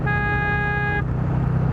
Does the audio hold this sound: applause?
no